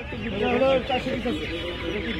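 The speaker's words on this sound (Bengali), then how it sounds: "এই যে দেখেন অসংখ্য টাইগার মুরগি।" Young tiger chickens, around eighteen days old, cluck and chirp in crowds at a Bangladeshi village market, a busy close flock sound with people talking over it.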